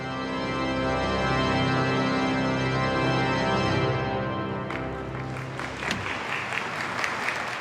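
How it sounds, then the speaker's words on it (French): Applause rises from a congregation at the end of a Christmas-season mass at Saint Patrick's in New York, a dense wash of clapping that breaks out after sustained tonal music fades, with no one speaking. "À la fin de la messe, comme dans tout bon spectacle, Daniel est applaudi."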